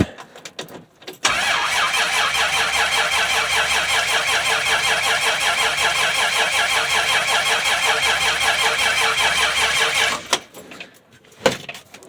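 A 1965 Dodge Dart with a Slant 6 engine cranks and catches on a cold start, then runs steadily at a loud, even idle for about nine seconds before cutting off, with a brief knock afterward.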